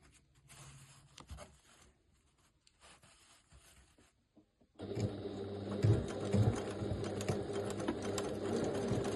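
Sewing machine back stitching the seam of a simple purse, heard after a few faint rustles as a steady close whirring run of stitching that continues to the end.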